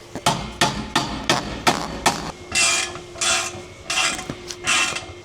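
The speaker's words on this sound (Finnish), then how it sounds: "No täällä on ainakin tämän jumalaton leka." A heavy sledgehammer lands about seven sharp, close blows in a steady rhythm, followed by several rasping, scraping bursts of metal and wood.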